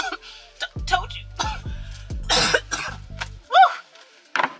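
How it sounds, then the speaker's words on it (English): A woman coughs repeatedly after spraying a scented spray indoors, a string of close, harsh coughs and throat-clearing bursts with brief pauses between them. "I will start coughing and die."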